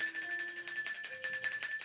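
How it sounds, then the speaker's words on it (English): A small bell rings with a bright, high metallic tone, struck repeatedly in an even rhythm of light dings for about two seconds, close and fairly loud with no voices over it. "Where is my bell of regret?"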